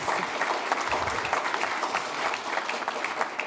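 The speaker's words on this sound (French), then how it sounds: "Vous pouvez applaudir la Présidente." An audience applauds the president at a professional real-estate gathering, a dense, steady clatter of many hands clapping together that stays fairly loud for the few seconds heard.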